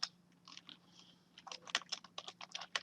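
Quiet typing on a computer keyboard, irregular bursts of light key clicks that quicken toward the end, close and alone over a low steady hum.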